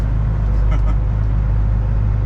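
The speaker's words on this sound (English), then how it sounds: "there's a car coming the time I go through the wrong way." A car passes on a snowy road during a snowstorm, heard as a steady low rumble with a brief swell as it goes by, recorded from inside a flatbed truck with no talking.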